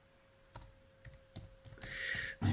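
Keys click sparsely as a password is typed on a Dell Latitude E5500 laptop keyboard, single and clustered taps, quiet and close.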